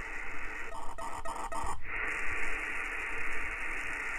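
Static-laden radio hiss from a CC1101 RF module is broken by a few slow, evenly spaced data bursts at 1.2 kilohertz, followed by a continuing noisy signal.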